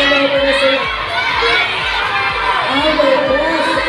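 A lively crowd at an outdoor pageant-style event cheers and shouts for a top investor, with children's voices in a loud, continuous roar of whoops over an announcer's amplified talk.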